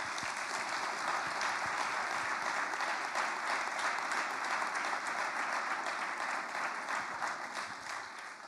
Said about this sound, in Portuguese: aplaude e glorifique o Senhor.